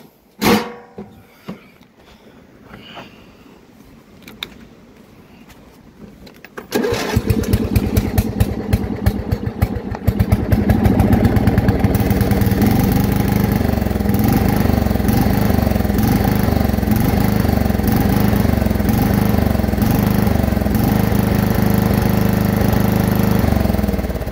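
A lawn mower engine sputters and catches after a few quiet knocks, then settles into a steady, loud idle that drones on without change.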